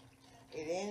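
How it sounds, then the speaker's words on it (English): Rice water poured into a large plastic ice cream bucket, a brief liquid splash and trickle that swells in the second half, fairly close and moderately loud. "I have a bucket here, a little ice cream bucket, big ice cream bucket, and I'm just going to pour"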